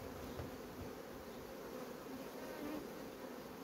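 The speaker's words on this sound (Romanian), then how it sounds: "asta e o colonie de producție care face miere" Honeybees from a honey-producing hive colony hum as a dense, steady drone that holds close and constant throughout, with no talking.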